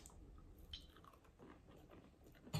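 Close, quiet bites and crunchy chewing on a stale, pressed waffle topped with pineapple, tahini and maple syrup, in a few irregular crisp bursts.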